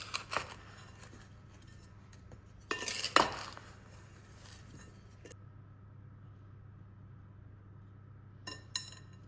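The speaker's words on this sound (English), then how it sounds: "I'm going to mix these in and cover all of these with that dry mixture." Plums being stirred into a flour and sugar mixture in a dish, with a few scattered scraping clinks of utensil against the dish and a louder burst of rattling near the start, then long quiet stretches.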